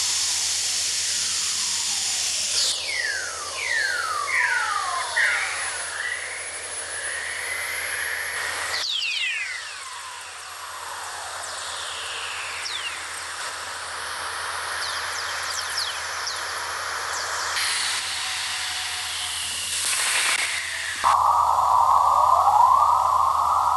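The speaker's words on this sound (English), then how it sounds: "Here is the sound of aurora." Recorded auroral chorus from a geomagnetic storm: rising, chirping whistles sweep over a steady hiss, repeating in overlapping arcs for over twenty seconds, ending in a brighter crackling burst.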